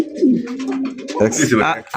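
Racer pigeons in a loft give loud, close, rolling coos, with a person talking over and between the calls.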